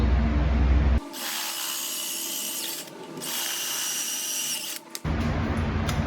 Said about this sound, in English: It's kind of a large drill bit, probably a little too big.